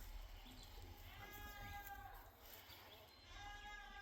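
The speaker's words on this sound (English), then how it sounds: "You'll probably hear the goats back there. That's the neighbor's goats." Neighbor's goats bleat faintly in the background, a few wavering calls standing out from quiet outdoor ambience, distant and soft.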